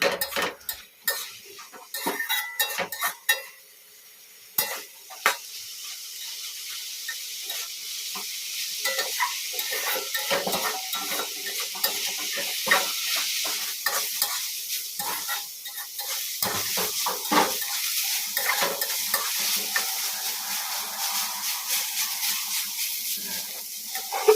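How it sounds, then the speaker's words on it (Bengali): Softened leafy greens stirred and fried in oil, with a long run of busy metal spatula scrapes and clinks against the pan over a continuous close sizzle. "এবার আমি এই শাকটাকে খুব সুন্দর করে নাড়াচাড়া করে ভেজে নেবো"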